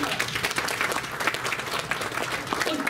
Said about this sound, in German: Ein Applaus für die Dame.